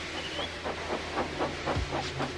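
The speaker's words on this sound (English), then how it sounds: "So they lit his fire, made lots of steam, and Edward puffed away." A steam engine in a Roblox railway remake puffs steadily, with rhythmic hissing chuffs repeating about every quarter second over a continuous rumble, moderately loud and close.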